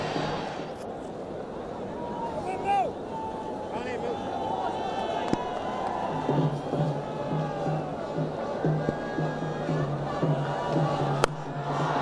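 Cricket crowd at a one-day international between Bangladesh and New Zealand roars and cheers after a boundary, a steady broad wash of noise throughout with commentary running over it.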